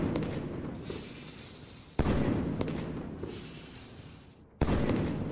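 Fireworks finale in the Pyroworks game mod, two sharp loud booms each followed by a long fading crackle and hiss, with no talk.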